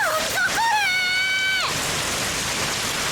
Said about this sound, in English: In less than a minute, the rain turns into a full downpour.